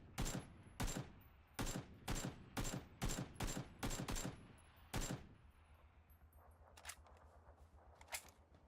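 Video game gunfire rings out in rapid, loud shots, roughly a dozen in a quick irregular rhythm, then gives way to fainter, more distant pops and clicks.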